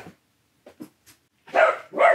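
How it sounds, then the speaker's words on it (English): A dog barks twice in quick succession, loud and close, after a few faint scattered sounds. "Quit barking."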